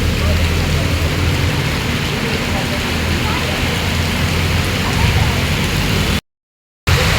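Dense, steady hiss of heavy rain pouring down nearby, continuous throughout, with a brief total silence near the end.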